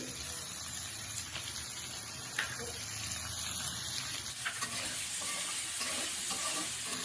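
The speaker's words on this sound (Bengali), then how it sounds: "একটু হালকা ভেজে নেব।" Shredded cabbage frying with turmeric powder and peas in a vegetarian dish, giving a continuous soft, hissing sizzle with a few stirring scrapes. Close but fairly quiet, with no talking.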